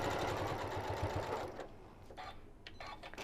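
A sewing machine stitches fabric for a Japanese rice bag, a steady close rapid whirring run that slows and stops partway, leaving light clicks and handling sounds.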